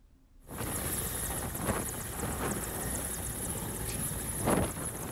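A helicopter ferrying election staff to polling stations drones steadily after a brief quiet start, a continuous whirring roar at moderate distance with faint rhythmic beating and no voices.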